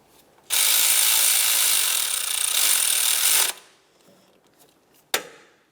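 A power tool, likely an impact driver or ratchet, buzzes for about three seconds while bottoming out 12mm mounting bolts on a 2006-2011 Honda Civic accessory belt tensioner, followed by a quiet pause and a sharp metallic clack.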